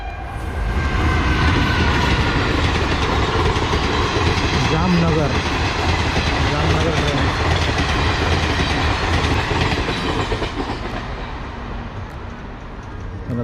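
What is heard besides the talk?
train passing a level crossing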